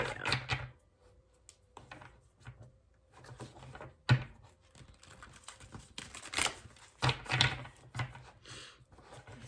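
Oversized tarot cards shuffled by hand, giving irregular bursts of close, soft card slaps and riffles separated by short pauses, with a few louder knocks, in a quiet room.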